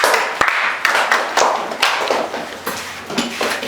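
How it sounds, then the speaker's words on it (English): A classroom of students clapping for a classmate in a biology lesson, a ragged burst of separate hand claps with uneven rhythm, fairly close and moderately loud, no talking over it. "Clap for him too."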